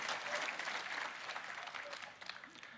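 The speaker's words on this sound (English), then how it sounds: "I want to give them a round of applause" Audience applause at the Roblox Developers Conference keynote, a dense, steady round of many hands clapping that holds through and thins slightly toward the end, moderately distant.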